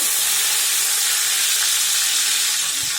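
Crushed garlic frying in hot oil in a pan, giving a close, steady sizzling hiss that stays even throughout.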